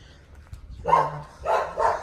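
A dog barks a few times close by, short sharp yelps in quick succession with a brief pause between them.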